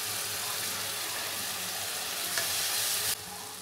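Pizza sauce of tomato paste and oregano cooking in a pan gives a continuous soft sizzle and bubbling hiss at low level, with no talking.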